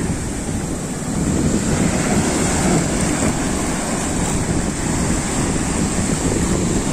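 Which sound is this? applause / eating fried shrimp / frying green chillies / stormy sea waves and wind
stormy sea waves and wind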